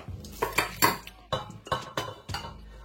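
Meat pieces dropped into a cooking pot for a green cabbage potée, with a series of sharp clanks and clinks of metal and utensils against the pot, close and fairly loud, with no talk.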